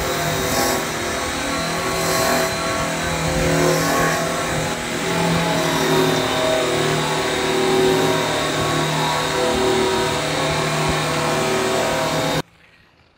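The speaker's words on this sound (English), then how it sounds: "Best thing to do with a satin airways buff is just to go diagonally up and down around the first set of diamonds" Buffing diamond plate with a satin airway buff on a power tool gives a steady, loud whirring drone with slow swells in pitch as the buff moves across the plate, then cuts off abruptly near the end.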